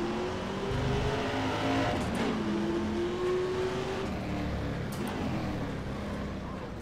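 Engine of a 1978 Ford XC touring car in the rFactor 2 racing game, a steady droning roar with rising and falling pitch through gear changes, continuous and fairly close, no talk over it.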